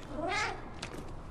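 A cat meows once in the video game Stray, a short, soft, slightly drawn-out cry, faint and close, followed by a couple of quieter game sounds.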